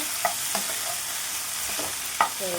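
Three tomatoes sizzle in a pan as they are stirred and fried, a continuous hiss broken by a few sharp scraping clinks of the spatula against the pan.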